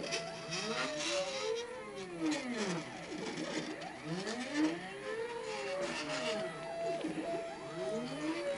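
A home-made Solsylva CNC router running a pocketing test, its stepper motors whining in rising and falling sweeping tones over a constant whirring spindle, steady and close throughout.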